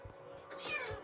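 A cat meows in the video game Minecraft, a single faint drawn-out meow with a rising and falling pitch, heard alone.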